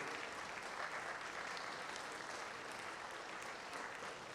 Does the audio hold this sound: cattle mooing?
no